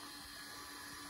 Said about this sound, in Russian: Через фен промышленный. Воздух качаем.